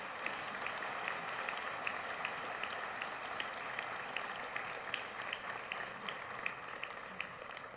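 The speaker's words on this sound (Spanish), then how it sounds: "Un fuerte aplauso para este distinguido grupo de estudiantes." Audience at a formal university anniversary ceremony in Costa Rica applauds a group of distinguished students, a sustained, even round of clapping heard at a distance with a few sharper individual claps standing out.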